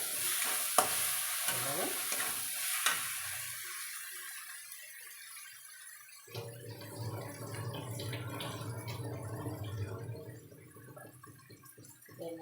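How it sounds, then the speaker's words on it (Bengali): Rice with jaggery sizzles in a hot pan while a utensil scrapes and stirs it, with a few sharp clinks early and a louder, steady frying hiss later. "এবারে এটাকে ভাজা ভাজা করতে হবে ভালো করে ভাজা ভাজা করে"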